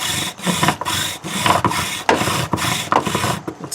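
Wooden spindle spinning on a lathe, with repeated scraping, rasping rubs in a steady rhythm and sharp cracking ticks, loud and close with no talking.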